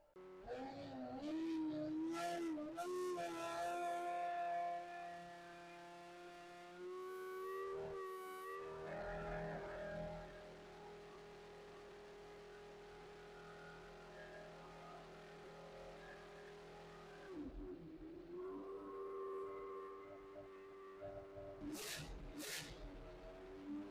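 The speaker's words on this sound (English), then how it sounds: "That was the McLaren Solus GT with the Mika Hakkinen livery." A McLaren Solus GT in Mika Hakkinen livery at the Goodwood Festival of Speed, its engine revving with rising and falling pitch as it passes, loud at first and then fading into a steady droning whine.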